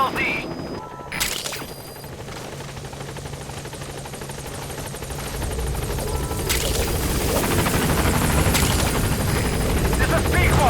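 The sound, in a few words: Pequod helicopter arriving at landing zone in Metal Gear Solid V video game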